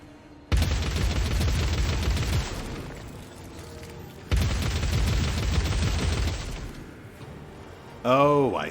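Gunfire in Warhammer 40k: Dark Heresy, two loud sustained bursts of shooting each lasting a few seconds, close and dense, followed by a short sweeping electronic effect at the end.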